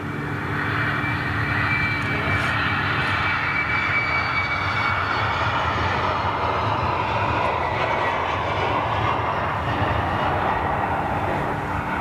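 A large jet aircraft taxiing nearby, its engines giving a steady, loud, broad roar with a whining tone that holds evenly for the whole stretch, with no voices over it.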